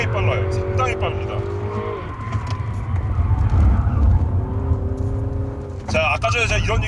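Hyundai Veloster Turbo (JS) engine pulling hard with quick gear shifts, the pitch dropping abruptly at each change before climbing again, with a voice talking over the steady in-cabin drone.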